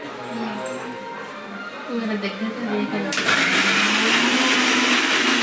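A kitchen mixer grinder whirs loudly, its motor noise jumping sharply in the middle of the clip and staying steady and close to the end, with people talking underneath before the motor surges.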